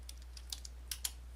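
Several light keystrokes on a computer keyboard, a short uneven burst of soft clicks heard close over a steady low hum, with no voice.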